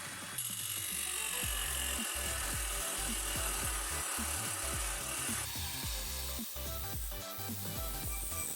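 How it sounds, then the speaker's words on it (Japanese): A saw cuts a karin hardwood slab at an 85-degree angle, giving a steady, close, loud rasping drone with repeated rhythmic strokes throughout and no speech. "先ほど85度に設定したこの2箇所を切断します。"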